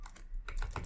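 Quick keystrokes on a computer keyboard type a short make command in Linux, with several close clicky taps in a brief burst and no voices.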